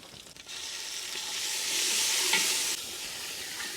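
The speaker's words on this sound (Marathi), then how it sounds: "पहिले आपण आता मिरच्या टाकू थोडंसे असे हलवून घेऊ" Green chillies tossed into browned onion and stirred in a pan over a wood-fired chulha outdoors on a farm: a steady, fairly close oily sizzle that swells louder midway, with soft scraping strokes and no voices.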